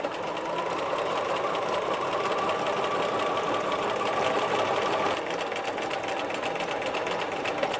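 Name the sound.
sewing machine stitching a knit sleeve cuff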